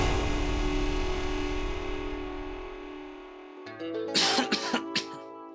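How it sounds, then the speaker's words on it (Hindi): A couple of sharp coughs burst out near the end, close and fairly loud, after a stretch of steady background music. "आपको खांसी हुई है?"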